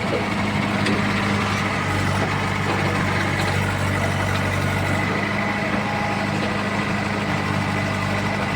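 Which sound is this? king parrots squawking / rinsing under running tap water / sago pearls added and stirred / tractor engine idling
tractor engine idling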